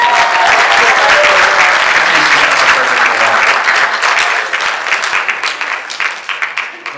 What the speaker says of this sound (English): Let's give it up for Kathy walking again